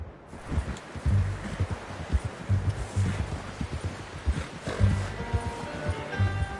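Horse hooves clip-clopping steadily in Red Dead Redemption 2, a soft rhythmic plodding under rustling and light wind, fairly quiet throughout.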